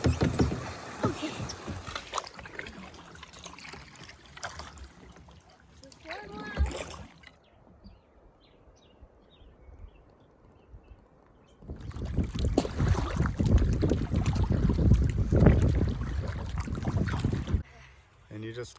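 A touring kayak paddled on open water gives splashing paddle strokes and water movement with wind buffeting the microphone, loud at the start and end with a quieter stretch in between, and people talk over it.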